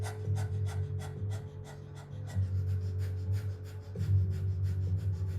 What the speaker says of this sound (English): let's start with the panting